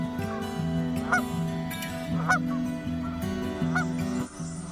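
Geese honking outdoors near woodland paths, a flock calling in repeated nasal honks that overlap in an uneven rhythm, fairly close and steady, with no talk over them.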